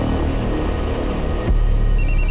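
A telephone rings in a room, heard as a brief high electronic ringing pattern entering near the end over a steady background hum, with no talk during the ring.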